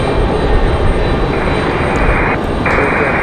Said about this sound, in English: enjoy the 777 departure